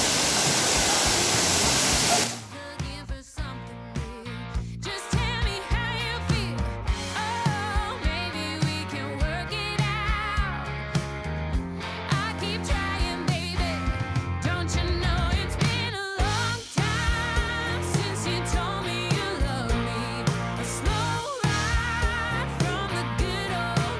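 Constant rushing roar of Cachoeira Santa Maria waterfall in Delfinópolis, Minas Gerais, Brazil, loud and steady throughout, with a dense layered texture that never pauses.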